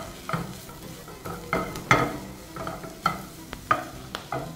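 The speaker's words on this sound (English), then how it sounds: "and then stir it some more." Sliced button mushrooms being stirred in a frying pan for beef stroganoff, close rhythmic scrapes of a utensil roughly twice a second over a soft sizzle.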